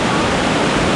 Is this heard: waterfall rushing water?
yes